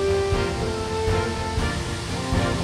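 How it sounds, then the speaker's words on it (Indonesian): Sambambo waterfall, over 200 m high in Mamasa, West Sulawesi, sends down a dense, steady roar of rushing water, loud and continuous without pause or talk. "Air yang keluar dari puncak gunung mengalir deras layaknya air yang jatuh dari langit."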